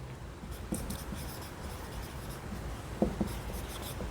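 Pen or chalk writing by hand during a nutrition genomics lesson, faint scratchy strokes in short bursts over a steady room hiss, with a couple of slightly louder taps near the end.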